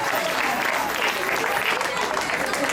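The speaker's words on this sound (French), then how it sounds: "est-ce qu'on peut applaudir très fort pour la femme?" An audience at a live event applauds loudly, with dense, sustained clapping from many hands and no break.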